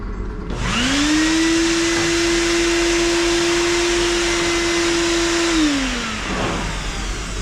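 A vacuum cleaner, being used during annual service of a Honda HRR216 push mower, starts up, holds a loud steady whine for about five seconds, then winds down; nobody speaks.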